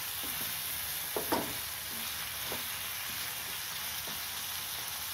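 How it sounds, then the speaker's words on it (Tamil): Peeled potatoes sautéing in a pan for a Tamil coconut dal curry, a steady soft sizzle with a few brief scrapes of stirring, moderately quiet and continuous. "உருளைக்கிழங்கு வதங்கணும்."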